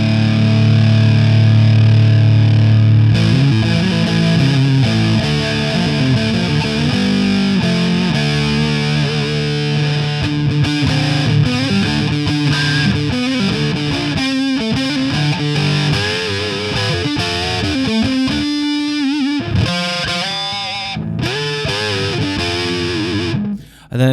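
Electric guitar played through a homemade Big Muff fuzz pedal with the gain raised, a loud thick distorted tone with sustained chords and then choppier riffing, played alone.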